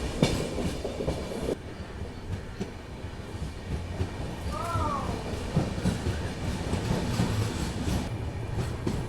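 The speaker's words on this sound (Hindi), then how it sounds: "फिलहाल अभी हमारी ट्रेन जो है वो स्किप कर रही है चिकजाजूर जंक्शन रेलवे स्टेशन को" An Ajmer–Mysuru express train runs through Chikjajur Junction without halting, its steady rail rumble and wheel clatter filling the scene from inside the coach, with a brief voice breaking through partway.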